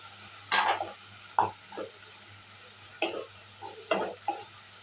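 Onions frying in a pan, heard as a faint sizzle beneath several separate scraping stirs of a spatula at irregular intervals.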